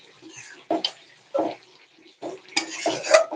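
Mutton curry with spices and potatoes being stirred and browned in a pot, giving several short bursts of clattering, scraping spoon-on-metal sounds with brief pauses between them, ending in a longer, busier stretch of sizzling scrapes.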